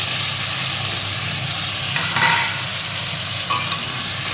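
Vegetables and fried lentil bori being stirred and sizzling in a pan for shukto, a steady scraping, frying hiss that runs continuously at close range with no talking.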